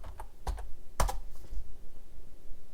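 Password being typed on a computer keyboard: a few soft, scattered key taps with one sharper press in the middle, quiet and close, with no talk.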